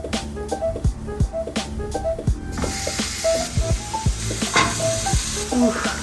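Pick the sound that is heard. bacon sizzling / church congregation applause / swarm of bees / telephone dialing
bacon sizzling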